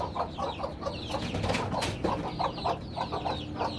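Small chicks and hens kept at home, a run of close, rhythmic clucks and soft chirps repeating over a few seconds, with no talking.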